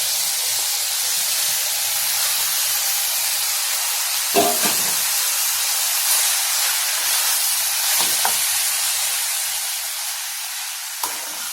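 Vegetables sautéing in a pan for a vegetable cutlet give a steady, close sizzle and hiss throughout, with a few brief clinks and scrapes as they are stirred.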